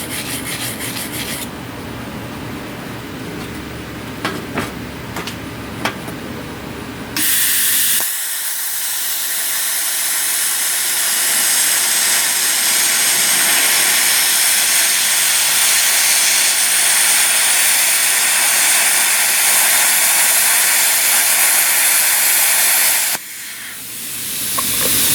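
Jegs Cut-40 plasma cutter turned up to full power, cutting steel angle iron: a loud, steady roaring hiss that runs for about fifteen seconds, with rougher scraping and rasping noise before it starts and after it stops.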